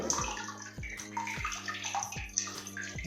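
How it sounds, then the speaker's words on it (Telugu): Water pours down into the underground passages of Belum Caves, a steady, reverberant rush broken by rhythmic splashing surges roughly every half second, with no voices. "పైన నుంచి పారుతున్నటువంటి వాటర్ అయితే పాతాళం లోపలికి పారుతున్నట్టు ఉంది"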